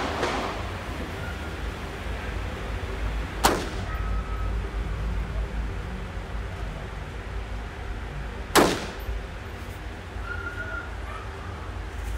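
Two sharp, loud 5.56 rifle shots ring out several seconds apart, each cracking over a steady hiss of open-air background noise.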